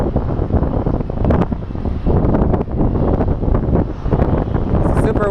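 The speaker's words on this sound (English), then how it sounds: "It's super windy today." Strong wind buffets the microphone in continuous loud rumbling gusts throughout, with no pause, at an airport.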